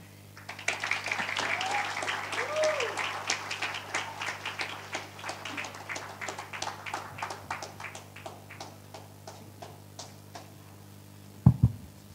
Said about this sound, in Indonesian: Boleh sekali lagi kita berikan tepuk tangan yang meriah buat adik-adik Pictures